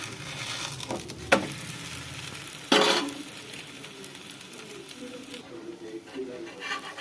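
A sabudana paratha flipped over on a hot pan, giving a low continuous frying sizzle with a couple of sharp scraping bursts from the turn, close by, while someone talks over it.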